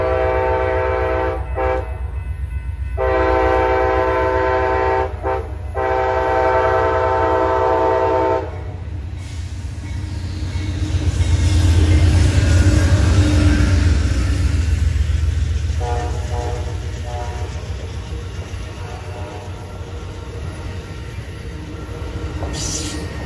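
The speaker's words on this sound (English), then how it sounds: "After the freight train, we waited for over an hour to see the eastbound Amtrak California Zephyr." An eastbound Amtrak California Zephyr on Donner Pass sounds its horn in several loud, long blasts, then rumbles past with a swelling roar of wheels and cars that fades slowly.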